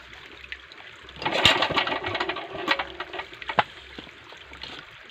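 A small sprayer engine sputters to life after a second of quiet, then runs with an uneven, rattling idle punctuated by sharp clicks and bursts, fairly faint and close, with no talk.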